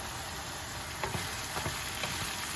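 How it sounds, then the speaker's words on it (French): Garlic and onions sauté in a pan, giving a dense, even sizzle that stays loud and constant throughout. A few soft utensil scrapes sit in the middle of the frying noise, and nobody speaks. "On fait revenir tout ça. Et on laisse cuire."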